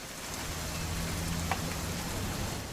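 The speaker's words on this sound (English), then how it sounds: "It's gonna rain the whole weekend," Steady rain patters continuously on a surface in the video game What Remains of Edith Finch, an even hiss of drops with a faint low rumble underneath.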